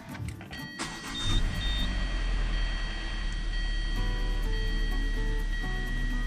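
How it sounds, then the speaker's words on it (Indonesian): A car engine starts and then idles steadily to warm up before an oil and filter change. The low, even hum is close and continuous, with no talking. "Okay, kita panaskan enjin dulu."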